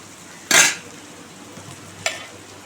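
Two brief bursts of stirring onions in a hot pan, a loud scrape and sizzle followed later by a shorter one, over a quiet background.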